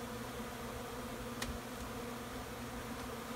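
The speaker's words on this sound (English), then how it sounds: "I'm getting a lot of bees out." Honey bees buzz around an opened backyard hive with frames of capped honey, a steady dense droning hum that holds evenly throughout, close by and moderately loud, with no talking.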